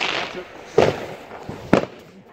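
New Year fireworks going off outdoors, two sharp bangs with crackling tails about a second apart, fairly near and loud over a noisy background.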